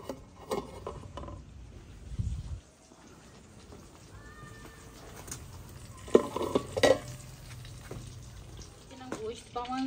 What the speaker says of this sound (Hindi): इनू फ्राई करांगी गोश्त में।